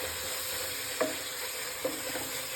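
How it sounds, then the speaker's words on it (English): Onions fry in a pan for Kerala-style meat biryani, a steady close sizzle with two brief clinks of stirring. "here, I'm frying the onions to a stage where it turns"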